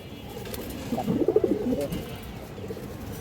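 Pigeons coo in a soft, rolling burst midway, fairly close, over a quiet background hum; no one speaks.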